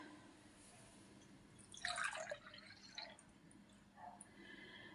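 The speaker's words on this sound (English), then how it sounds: "So let's pour a cup of tea." Tea is poured into a cup: a faint, brief trickling splash around the middle, then a few soft drips against quiet room tone.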